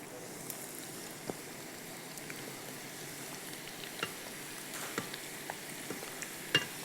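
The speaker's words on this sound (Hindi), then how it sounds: "बिल्कुल धीमी आंच के ऊपर स्लो स्लो आपने प्याज को फ्राई करना है।" Chopped onions frying slowly over a low flame for sharbat, a soft steady sizzle with faint scattered crackles, quiet and close, no one speaking.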